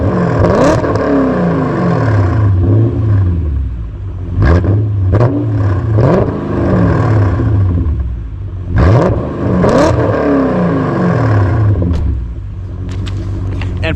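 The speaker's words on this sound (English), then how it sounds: "here's a couple revs for you guys" BMW E39 M5 V8, bought wrecked and repaired, idling with a deep exhaust rumble and then revved in several quick surges that climb and fall back, loud and close.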